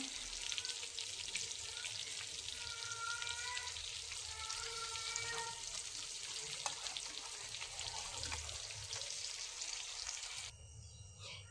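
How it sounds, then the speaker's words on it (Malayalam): Fish pieces frying in hot oil and being turned one by one: a steady, close hiss of sizzling that runs throughout with faint clicks, then drops away abruptly near the end. "ഈ മീൻ ഫ്രൈ ഓരോന്നായിട്ട് മറിച്ചിട്ട് കൊടുക്കാം"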